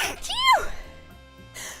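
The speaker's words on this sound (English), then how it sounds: "I'm gonna sneeze again" A single close sneeze from a streamer chatting while drawing, a sharp burst with a falling voiced tone, followed by a quieter exhale.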